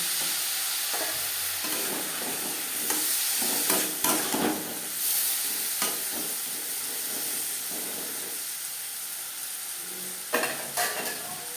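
Sliced pointed gourd sizzles and hisses steadily in oil in a pan over a gas flame, with a spatula scraping and stirring through it at intervals.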